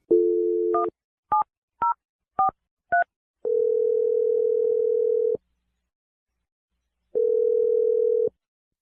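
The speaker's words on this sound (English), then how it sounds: "I'm going to dial Jonathan's number right now." Touch-tone phone dialing for a radio show call: a steady dial tone, then five short evenly spaced keypad beeps, then two long ringback tones with a gap between them, close and clear with no talking.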